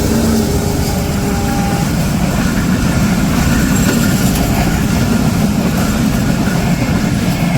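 A long train passes close by on railway tracks, a loud, constant rumbling roar of wagons with faint rhythmic clatter and no letup across the whole stretch.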